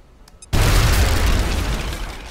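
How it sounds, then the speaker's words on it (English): A video game grenade goes off with a sudden loud boom after half a second of near quiet. Its heavy rumble lasts to the end and fades slowly. "And this is going to be a grenade."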